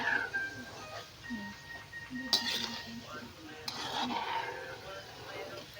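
Banana que being stirred with sugar in a pan, with repeated clinks and scrapes of a utensil against the pan under a low background hum.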